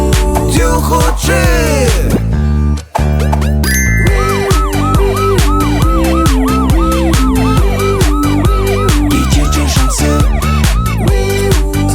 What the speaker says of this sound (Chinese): 救护车。